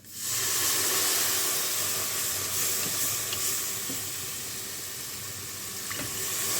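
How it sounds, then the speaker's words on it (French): Steady loud sizzling and hissing as liquid is added to a hot butter-and-flour roux in a Cookeo multicooker, a continuous frying hiss with faint stirring clicks underneath. "Et j'ajoute mon liquide."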